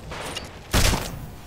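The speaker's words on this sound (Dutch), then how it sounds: "Ik gooi random een granaat omdat het F is." A grenade blast in Titanfall, one loud sudden boom midway that fades within a fraction of a second, over a low background rumble.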